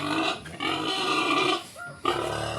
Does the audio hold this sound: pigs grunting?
yes